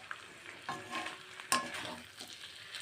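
A spoon stirs small fish in a pan with a drizzle of raw mustard oil, a soft steady sizzle under scraping strokes and a sharp metallic tap against the pan, close and fairly quiet.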